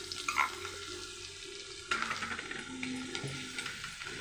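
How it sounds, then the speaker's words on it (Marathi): Spice paste goes into hot oil on a high gas flame for a Maharashtrian shev bhaji curry, giving a loud sizzle and clatter at the start and a second burst midway, then crackling frying and stirring. "त्यासाठी आता आपण तेल तापलं की पहिले हे वाटण टाकूया."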